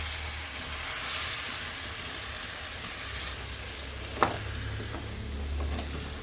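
Pumpkin stirred in a hot pan for a Goan-style dry vegetable dish, a steady close sizzle and hiss with soft scraping and one sharp click, no voices.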